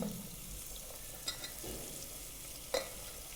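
Small-cut potato, carrot and beans stir-frying in oil for veg biryani, with a soft continuous sizzle and a few brief clinks of a stirring spoon, fairly quiet and without talk.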